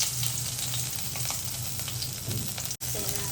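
Oil and butter sizzling in a kadai before paneer is added, a close, even crackling hiss that runs steadily with a brief cut near the end.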